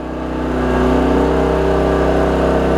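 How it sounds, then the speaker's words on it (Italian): A small four-stroke portable gasoline generator, a maXpeedingrods MXR3500, hums steadily under load at a constant speed, loud and close, with a low droning tone and no change in pitch. "Il regime del generatore è costante."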